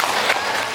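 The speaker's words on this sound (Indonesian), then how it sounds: "Tepuk tangan buat kita semuanya." Kindergarten teachers at an in-person training workshop applaud together, a brief burst of dense, hissing clapping from a room of participants.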